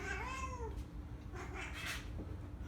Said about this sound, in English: these cats are really wanting treats